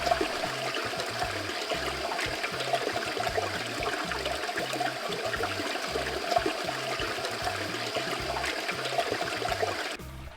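River current in a canyon rushes steadily around rocks, a continuous close, loud flowing and gurgling wash that holds even for about ten seconds and then cuts off abruptly at the end.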